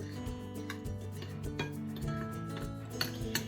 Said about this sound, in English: I've already put my flour in. Well, that's going to be our salt and our baking soda. And you're going to mix these up.